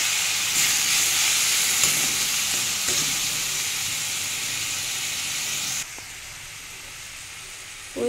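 A splash of water hits frying spices in a pan, producing a loud, steady steamy sizzle that hisses for several seconds, then drops abruptly to a quieter simmer.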